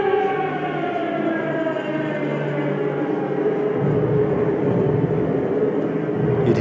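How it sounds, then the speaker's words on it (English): An air raid civil defense siren wails loud and continuous, its tones sliding slowly, alone with no voices. "Sirens would have gone."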